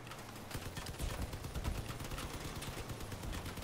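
Turret gunfire in the vehicle combat game Crossout, a fast, steady stream of rapid shots cracking over a low rumble, moderately loud and continuous, with no talking.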